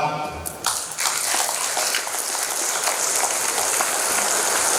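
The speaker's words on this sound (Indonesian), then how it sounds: "Beri tepuk tangan buat Bapak Novan." An audience at a motivational seminar bursts into sustained applause, dense, loud clapping that swells after a brief spoken introduction and continues steadily to the end.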